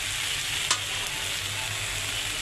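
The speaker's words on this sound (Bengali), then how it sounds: "এখন আমি তেলে ভেজে নিচ্ছি।" Taro stolons (lati), already bent and prepared, frying in oil make a steady, moderately loud sizzle with a single brief sharp pop near the start; no talking.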